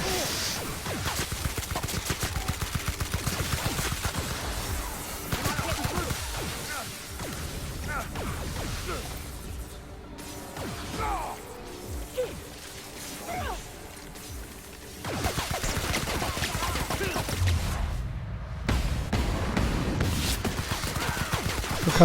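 Video game gunfire in The Outer Worlds, dense and continuous with bursts of rapid shots, crashes and whooshes over a loud battle bed, brief lulls midway, while someone talks intermittently over the fighting.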